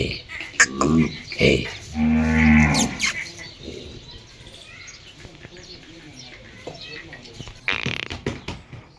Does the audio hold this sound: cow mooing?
yes